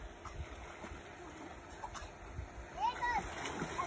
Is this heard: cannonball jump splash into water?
yes